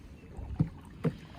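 A BOTE Lono kayak moves through water nearby, two soft splashy paddle strokes rising out of a quiet background of light wind.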